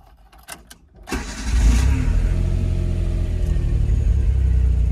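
A 1992 Autozam AZ-1 cold-starts from inside the cabin: a brief crank catches about a second in, flares, then settles into a steady, loud idle that holds for the rest of the clip.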